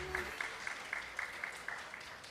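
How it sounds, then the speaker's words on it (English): Sparse applause from a small audience at a Krishna Mandir Divali program, a few scattered rhythmic claps repeating steadily, fairly faint and thin, with a brief trace of voice at the start. "round of applause, please, at this moment"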